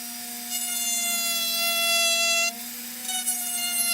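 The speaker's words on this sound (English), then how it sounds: "Dremel is nice, but it sure does make a mess." A Dremel rotary tool cuts a circle into a helmet, its high steady whine close and loud, dipping briefly in pitch midway before resuming.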